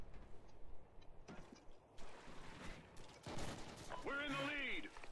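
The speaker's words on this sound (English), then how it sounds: "I'm already getting shot at" Gunfire crackles in Call of Duty Ghosts, bursts of shots and mechanical clatter arriving in uneven clusters at moderate distance, with a spoken voice mixed underneath.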